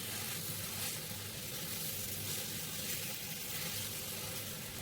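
Boiled potato being tossed with spice masala in a hot frying pan for aloo paratha filling, giving a steady, dense sizzle throughout with no talking.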